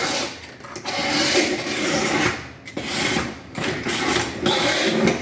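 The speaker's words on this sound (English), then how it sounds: "take my utility knife and just kind of give this a nice scrape" A utility knife blade scrapes repeatedly across trim, a gritty rasping stroke after stroke, close up and fairly loud with brief pauses.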